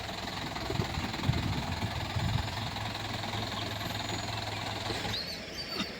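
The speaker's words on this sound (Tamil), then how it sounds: "தம்பி தான் வண்டி ஓட்டுறாப்படி." A work vehicle engine idles and runs steadily on an early-morning trip for borewell work, a continuous low rumble with slight knocking vibration, fairly close and unbroken throughout.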